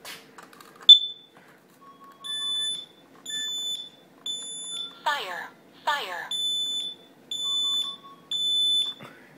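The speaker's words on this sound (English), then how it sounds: "Ooh, carbon monoxide, I'm gonna do four little beeps" A loud carbon monoxide alarm in a home security system sounds in a regular series of sharp, high-pitched beeps, interrupted twice by a brief warbling tone.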